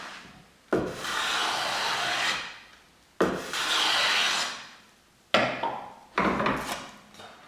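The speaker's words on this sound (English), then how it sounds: "So I'm jointing one long edge of each of the panels that I break down into strips for the interior compartments." Wooden panel edges pass over a jointer in three long, loud planing runs, each a steady rasping roar that cuts off sharply, with a shorter fourth pass at the end.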